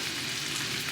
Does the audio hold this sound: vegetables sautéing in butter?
yes